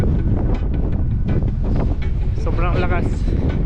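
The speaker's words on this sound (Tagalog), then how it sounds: "Sobrang lakas kasi ng hangin." Heavy wind gusts batter the mic on a mountain bike outing in Calgary, Alberta, Canada, a loud continuous roar with a voice briefly audible partway through.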